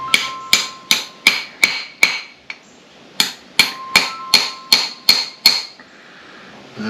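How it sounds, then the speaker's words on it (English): A hammer strikes a metal shifter part from an F350 Super Duty shift tube on a hard surface, about a dozen sharp ringing blows in an even rhythm with one short pause midway. "I gotta find a hard surface to hit this on."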